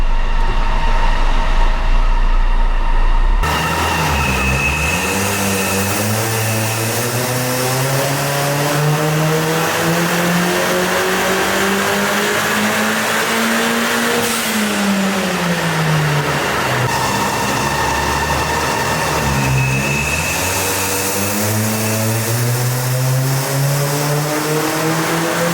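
A hybrid-turbo Ford Fiesta ST180 engine revs hard on a dyno, a loud, steady roar rising in pitch through the gears, dipping between pulls and climbing again.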